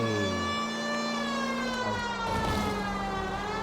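An old police car siren from the game LA Noire wails continuously over engine rumble, loud and near, with a slight dip midway and no voices.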